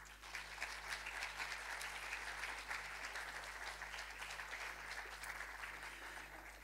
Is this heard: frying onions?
no